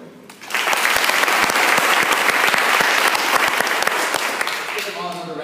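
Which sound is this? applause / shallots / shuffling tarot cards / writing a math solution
applause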